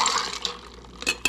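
A cocktail is poured from a large-neck shaker tin into a medium one, a short splashing, trickling stream of liquid with a few brief metallic clinks, close and moderately loud.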